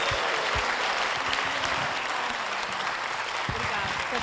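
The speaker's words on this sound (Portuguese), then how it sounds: "E eu gostaria que vocês aplaudissem com carinho a minha amiga" A crowd at a Brazilian concert applauding to welcome a singer onstage, sustained clapping throughout with some voices underneath.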